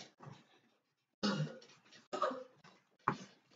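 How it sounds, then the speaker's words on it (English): A few short, hoarse coughs come in separate bursts, close and fairly quiet, with a pause between the first and the rest. "Did I just hear you cough again?"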